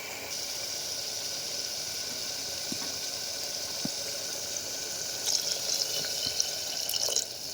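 Water runs and splashes steadily into a pan of sautéed curry, with a few small drips and clinks and a short louder burst of pouring near the end.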